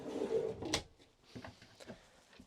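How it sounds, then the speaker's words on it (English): A motorhome cutlery drawer slides open with a brief rolling rumble and a sharp rattle of its contents, followed by softer knocks and shuffling. "Cutlery drawer."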